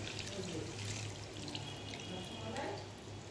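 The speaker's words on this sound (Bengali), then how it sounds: "চলো এবার থালাটা ধুয়ে জল দিয়ে দিলাম।" Running water from a kitchen tap rinsing a plate while preparing a Bengali hilsa and katla fish curry, a steady close splashing flow with faint clinks, continuing without pause throughout.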